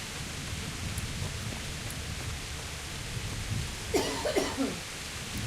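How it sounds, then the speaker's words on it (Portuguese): Steady rain hiss in the medieval game Kingdom Come Deliverance, an even wash of falling rain with a few brief soft thuds and a short burst of sound near the end. "Tu gostas do som da chuva?"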